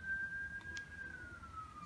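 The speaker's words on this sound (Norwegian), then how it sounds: "Nå kommer politi." A distant emergency siren, police or ambulance, wails as a single steady tone that slowly slides lower over about two seconds. It stays faint against a low background rumble.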